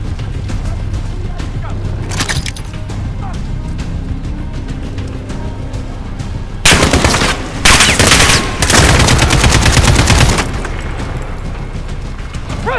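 In Call of Duty: Modern Warfare, a machine gun nest opens up in loud, dense bursts of automatic fire, building to several seconds of sustained shooting before dropping back to quieter battlefield noise.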